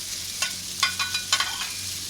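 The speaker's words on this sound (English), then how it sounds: "In with the garlic" Garlic hits a hot wok on a rocket stove during a turkey stir-fry with peppers and onion, giving a steady close sizzle broken by several sharp scraping stirs.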